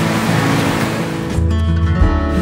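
Strong surf washing against a shore near a summer campsite in Tarlac, a loud, continuous rushing wash with low rumble that swells toward the end, heard alone without voices.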